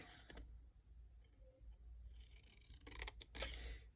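Scissors snip out paper craft pieces for ephemera, giving a few quick, crisp cuts and rustles, the loudest pair near the end, with no voices.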